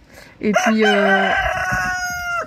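A rooster crows once on a farm, a loud, close, drawn-out call lasting about two seconds, with a brief spoken word just before it.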